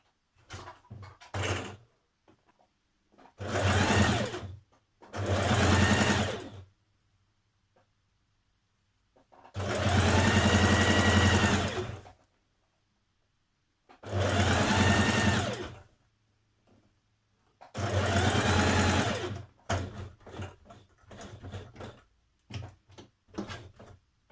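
Sewing machine stitching a Simplicity 8384 dress, running in four or five separate bursts of a few seconds each, close and steady, with short pauses and small handling clicks between runs.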